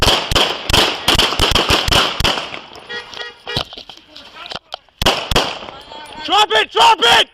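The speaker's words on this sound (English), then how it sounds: "a volley of gunfire is heard" Police gunfire caught on a body camera, a rapid volley of loud sharp shots at the start, then shouting voices and a few more bangs.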